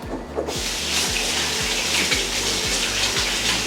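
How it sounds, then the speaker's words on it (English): A tap runs steadily into a sink as gooey cake-batter hands are washed in a home kitchen, a continuous close rushing splash with a low rhythmic hum beneath, no talk. "so now my hands are all gooey and I don't like to have gooey hands, so I'm just going to wash that off"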